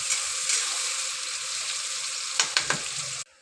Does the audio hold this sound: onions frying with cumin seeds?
yes